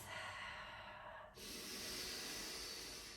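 A deep breath held and released in an energizing yoga flow, with a long airy exhale, a brief pause, then a strong breathy inhale, close and steady, with no talking.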